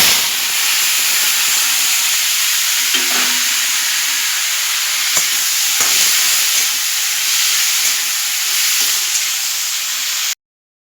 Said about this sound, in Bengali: তাই আমি একটুখানি লাউটা নাড়াচাড়া, তেলে নাড়াচাড়া দিয়ে নিচ্ছি।